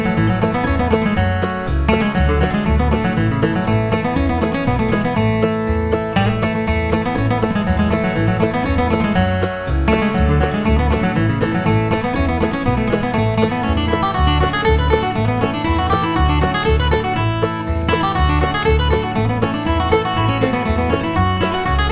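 A flatpicked guitar melody of the fiddle tune "Cherokee Shuffle" rides over a full band backing track with steady drums and bass, dense and loud throughout with no talking.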